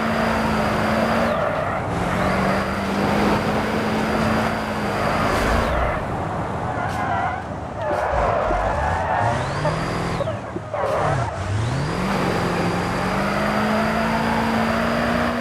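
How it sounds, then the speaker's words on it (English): Race car drifting in a racing video game, an American car with air brakes sliding as the rear locks under the parking brake, engine note rising and falling continuously with tire squeal swelling through the slides, loud and close. "Ooh, wow, that's a pretty good drift there."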